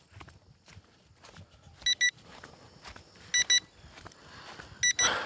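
An FPV drone beeps in three short bursts of high electronic beeps, each a quick double chirp, spaced about a second and a half apart over faint rustling and footsteps.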